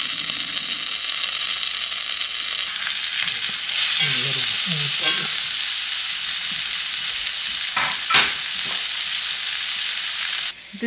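Moose steak sizzles steadily in a hot pan, a continuous loud frying hiss with occasional stirring and scraping clatters near the mic, no voices.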